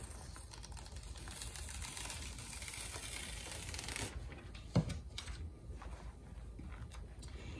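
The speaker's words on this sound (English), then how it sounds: "Now I can go ahead and peel back that rhinestone carrier." A rhinestone transfer carrier sheet is peeled back from a face mask after heat pressing, giving a faint, steady crackling rustle that builds for a few seconds and then thins into scattered soft crinkles with one small tap.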